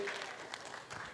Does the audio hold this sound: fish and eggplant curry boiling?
no